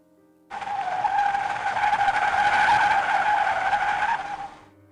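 A car brakes suddenly, its tires skidding in one long, loud screech of about four seconds that rises abruptly, holds steady and then fades, with no voices around it.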